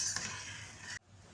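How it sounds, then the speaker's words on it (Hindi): Potatoes roasting in a pan while being stirred with a spoon for a barbecue aloo dish: a steady, soft sizzle with faint scraping, cutting off abruptly near the end. "आलूओं की मैंने बहुत अच्छे तरीके के साथ बुनाई कर लिया है।"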